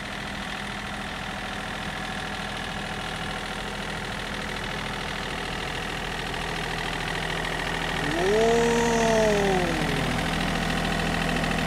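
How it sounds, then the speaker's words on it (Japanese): A farm tractor engine running steadily nearby, a constant low rumbling drone throughout, with a brief rising tonal whine near the end; no one speaks. "母ちゃんトラクターで来たで"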